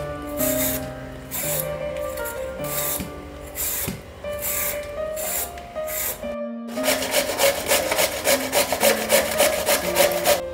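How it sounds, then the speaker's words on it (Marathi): Three peeled medium cucumbers rubbed against a kitchen grater, giving repeated rhythmic rasping strokes that turn faster and denser after a brief pause. "अशा तऱ्हेने आपल्या तिन्ही काकड्या किसून घेऊया।"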